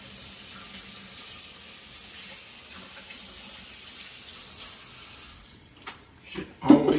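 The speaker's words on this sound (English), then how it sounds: "I've got to wash my hands now" Tap water runs steadily into a kitchen sink while hands are washed beneath it, a continuous close splashing stream that is broken by a few louder splashes and knocks near the end.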